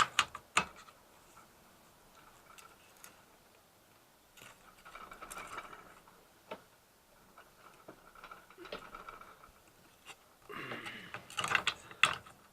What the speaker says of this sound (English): To get this off, I have to pull this nut loose, and that will I'm gonna do it with my pliers.